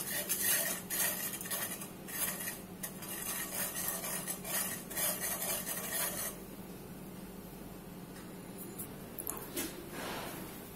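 A spoon scrapes and clinks against a pan while stirring custard powder halua, a busy close rhythm of metallic rubbing that thins out partway through, then a few brighter scrapes near the end.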